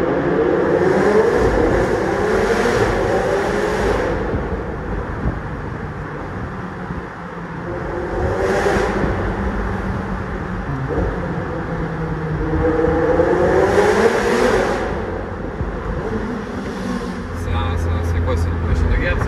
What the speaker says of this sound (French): l'échappement est d'origine, ça chante déjà très fort malgré que ce soit un moteur turbo